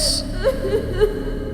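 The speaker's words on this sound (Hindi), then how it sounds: "तभी एक आवाज आई, एक औरत की रोने की आवाज।" A woman cries softly in a dark forest at night, a horror-story effect: short, quivering whimpers and sobs rise over a steady low hum, close and fairly loud.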